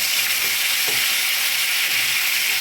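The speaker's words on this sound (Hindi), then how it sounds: "तो अदरक लहसुन का पेस्ट अच्छी तरह से ये भून दिया है" Ginger garlic paste sizzles loudly in a hot pan while being stirred, a dense continuous frying hiss close up with no voices, cooked for chicken kofta.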